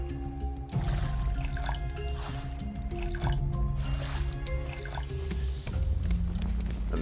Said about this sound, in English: Let's grab water here too.